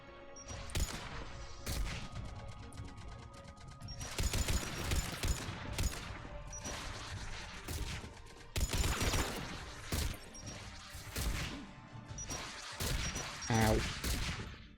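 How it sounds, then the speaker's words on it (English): Missiles or rockets firing in the video game Mass Effect 3: loud, booming bursts of blasts and explosions come in clusters with brief quieter gaps between them. A voice is faintly present underneath. "Stop firing missiles! Or rockets or whatever."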